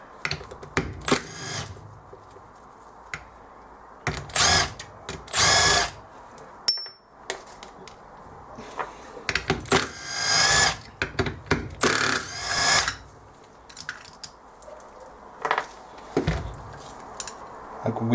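A power tool spins out the four clutch bolts on a Stomp pit bike in repeated short bursts of whirring, separated by pauses and faint clinks of parts being handled.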